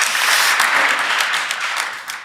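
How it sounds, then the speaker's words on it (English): Loud, close applause from the audience at a live podcast recording on agile work, a dense burst of clapping that starts strong and slowly tapers over a couple of seconds. "Big round of applause once again."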